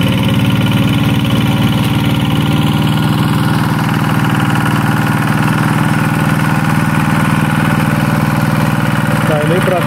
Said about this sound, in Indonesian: Nah, terdengar ya suara traktornya ya.